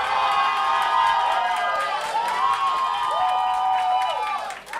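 An audience on a television talent show cheers and claps in a steady roar, with whoops rising above the crowd noise and music playing beneath, loud and sustained until a brief dip at the close.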